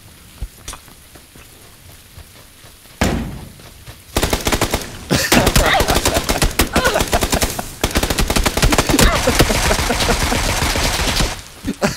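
Gunfire in PUBG: after a few scattered shots, long, loud, dense bursts of automatic fire rattle on with brief breaks, close and harsh, with no clear talking over them.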